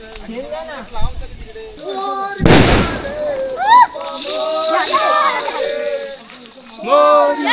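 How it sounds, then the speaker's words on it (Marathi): A firecracker bursts with one loud, sharp bang during a rainy Ganesh immersion procession in the Konkan, amid lively chanting and talk from the crowd. "आपल्या पोरांनी फटाके वगैरे आणलेले आहेत फटाके फोडत फोड आपण चाललो आहे"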